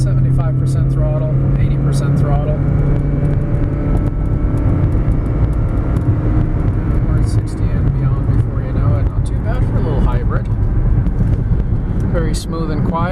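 2013 Toyota Prius Plug-in Hybrid pulling away from a stop at about three-quarter throttle, a steady low road and drivetrain hum with wind and tyre noise filling the cabin, loud and continuous, while someone talks over it.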